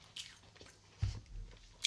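A single crisp bite into a crunchy heart-shaped biscuit, then a short stretch of soft chewing, close and fairly quiet with no talking.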